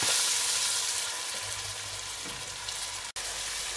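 Sliced onions with ginger garlic paste frying in oil for a chicken karahi, a loud, dense sizzle that eases slightly and cuts out for an instant, no talking.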